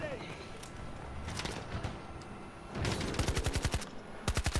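Rapid automatic gunfire in the shooter game Battlefield 2042, with scattered shots early on, then two loud bursts of quick evenly spaced rounds near the end, set under a busy combat ambience with voices.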